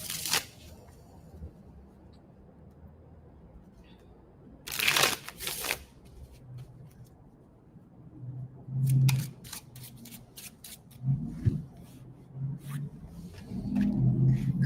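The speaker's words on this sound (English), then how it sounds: "Cards are flying out." Tarot cards are shuffled in quick crisp bursts, with several separate riffling and snapping runs close by, alternating with quiet pauses and soft handling sounds.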